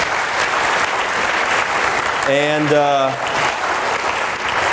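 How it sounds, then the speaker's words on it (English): Hearty audience applause for election roundtable panelists, a loud, sustained wash of clapping that a voice briefly cuts through midway. "Please give a hearty applause to our panelists."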